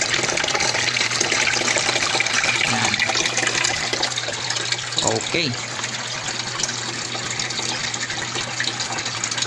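Water gushes steadily through a homemade low-cost aquarium filter packed with scrubbing pads, a continuous close splashing flow with a person talking briefly over it.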